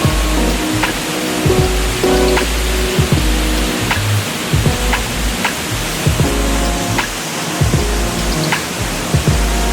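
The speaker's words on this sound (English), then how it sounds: "You made it to the Hidden Waterfall." Seljalandsfoss waterfall in Iceland in winter, a steady broadband roar of falling water that stays loud and constant, with a few faint tonal tones and thumps scattered through it and no voices.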